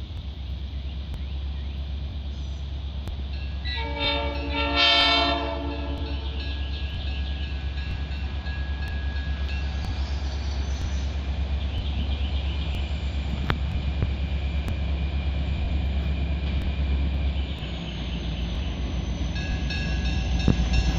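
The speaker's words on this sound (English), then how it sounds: "Tennessee Valley Train 300 is entering yard limits" A train rumbles past while entering the Grand Junction yard limits, a steady low engine drone with a loud multi-tone horn blast early on, then continued rolling rail noise and wheel clatter.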